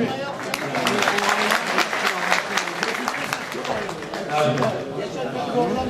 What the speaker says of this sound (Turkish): Üç, üç yani bir alkış alalım o zaman.